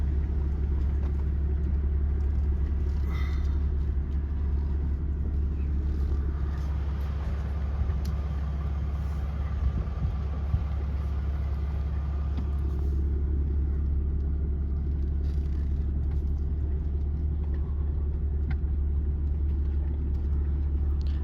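A vehicle's engine drones in a low steady rumble from inside the cab while driving and pulling in at a rural property, continuous and loud, with faint road noise and occasional small bumps.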